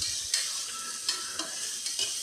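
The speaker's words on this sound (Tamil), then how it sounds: "இஞ்சி பூண்டு பேஸ்ட்டு போட்டு பச்சை வாசனை போகிற வரை நல்லா வதக்கிட்டு" Ginger garlic paste sautéed in a pan for a vegetable kurma, with a soft constant sizzle broken by a few sharp spatula scrapes, close and fairly quiet.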